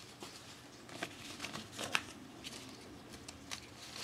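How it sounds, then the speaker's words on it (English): Soft rustling and shuffling of paper name slips being stirred together in a hat, with light scattered rattles and a few sharper crinkles close by. "All the names are going back here into the hat."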